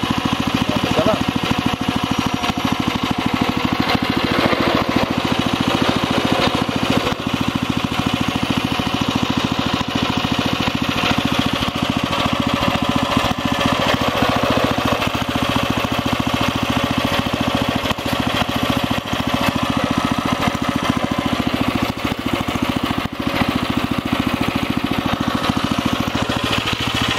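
Engine of a new machine idling steadily after being shifted into reverse, a continuous mid-pitched rumble with slight vibration that stays loud and close throughout.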